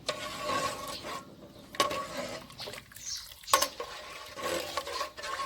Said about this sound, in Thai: อย่าให้ กะทิแตกมันนะครับค่อยๆคน ใช้ไฟอ่อนๆเรื่อยๆนะครับ